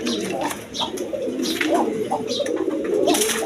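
Black pigeons of a large breed cooing steadily up close, low throaty coos overlapping continuously with faint ambient noise.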